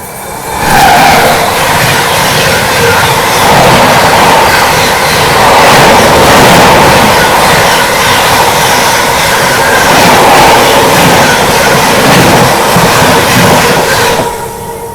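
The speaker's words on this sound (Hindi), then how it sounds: "सामने से राजधानी एक्सप्रेस आ रही है बढ़िया स्पीड में" Madgaon–Nizamuddin Rajdhani Express rushing past at high speed, a loud, close, sustained roar of wheels and wagons clattering steadily for the full length before cutting off abruptly at the end.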